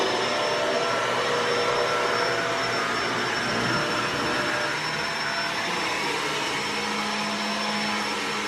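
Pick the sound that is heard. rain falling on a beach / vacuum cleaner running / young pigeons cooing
vacuum cleaner running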